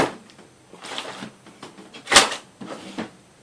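A messy desk drawer is opened and rummaged through, giving a series of scattered knocks, slides and clatters with one sharp louder rattle near the middle, heard close up without speech.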